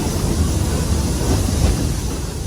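A Walt Disney World Railroad train rolls along through the Magic Kingdom, a steady low rumble of wheels and cars running continuously and fairly loud, with no voices.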